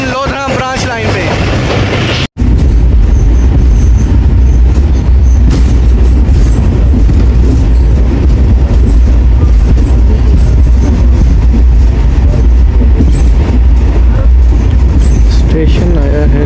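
Baba Fareed Express train rolling onto the Raiwind–Kasur–Pakpattan–Lodhran branch line through a sharp left curve, a loud steady rumble and rattle heard from inside the carriage with rhythmic clatter, after a brief burst of talk at the start.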